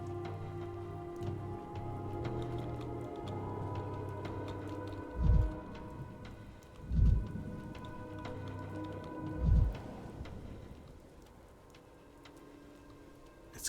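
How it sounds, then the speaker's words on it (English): Constant rainfall patters in the dark world of the video game Pathologic 3 under a low, droning ambient score. Three deep, rumbling booms break through at intervals before the rain settles back to a steady hiss. "It's constantly raining."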